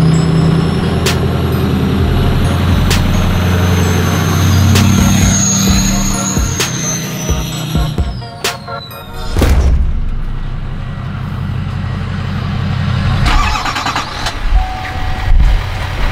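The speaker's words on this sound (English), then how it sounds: "I thought it was gonna sound like Jake's truck" A diesel pickup truck engine runs loud and close, linked to a 2022 Duramax pulling a stuck 6.0 PowerStroke, with a steady rumble, revving swells and a few sharp clanks and bangs.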